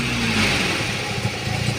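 Rotary engine fitted with an IDA carburettor, running close by with a raspy, pulsing burble that steadies and then revs in choppy bursts toward the end, with no talk over it.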